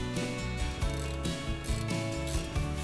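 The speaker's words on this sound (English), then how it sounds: "we can get our little ratchet spanner and we can tighten those on" A ratchet spanner tightens bolts on a Cobra Fortis 20B cylinder mower. Loud, close, rapid pawl clicking comes in repeated bursts of strokes, with no talking.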